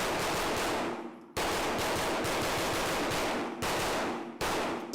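Stealth Arms Platypus pistol fired at 7 yards on a range, four loud, evenly spaced shots ringing out with brief echoing decay between them, no talking.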